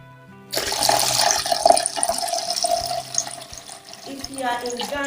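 Water gushes from a tap into a basin, a steady close splashing rush that shifts in pitch as the container fills.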